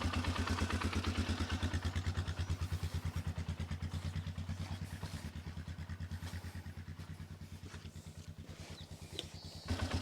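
A Polaris Sportsman 500 ATV engine runs steadily nearby, a rhythmic, lumpy idle with pulsing exhaust beats and mechanical clatter throughout, ending with a brief knock.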